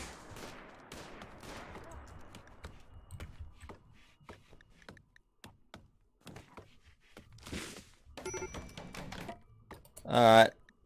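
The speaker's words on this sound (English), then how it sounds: "I just love the sound of the gunshots in the background." Scattered gunfire from a RimWorld colony battle, sporadic sharp pops and short bursts in the background, fairly faint, with a louder cluster near the end and a voice murmuring at times.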